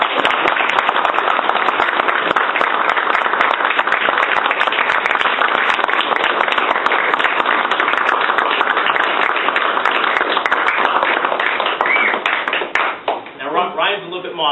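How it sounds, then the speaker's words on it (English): An audience at a SouthCoast GOP candidates' night gives a hearty, sustained round of applause for Ryan Dixon, dense clapping filling the room before it tapers off near the end. "I want everyone to please join me in extending a very hearty round of applause for Ryan"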